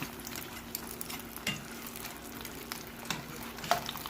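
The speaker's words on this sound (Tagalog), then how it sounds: "Ito po yung ikalawang pagpiprito, ganyan lang. Mabilis ang pagpiprito, ngunit mas mainit na mantika." Chicharon bulaklak crackles in hotter oil during its second deep frying, a steady close sizzle with scattered pops and stirring clicks, no voices.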